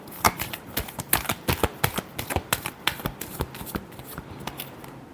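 Tarot cards being shuffled by hand give a quick run of crisp riffling snaps and flutters, close and uneven in rhythm, with no speech.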